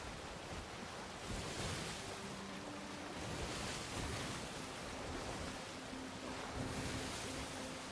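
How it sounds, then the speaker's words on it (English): Video game ship with waves crashing against its hull, a faint continuous wash of surf and wind-like rushing with gentle surges and soft tonal hums in the background. "Water jumping up on the, or crashing up on the ship."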